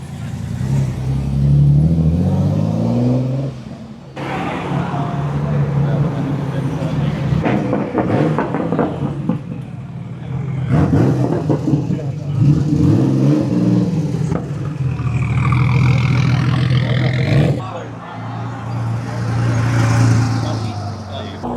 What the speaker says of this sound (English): We're going to get a symphony of loud cars.